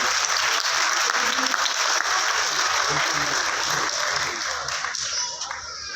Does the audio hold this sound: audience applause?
yes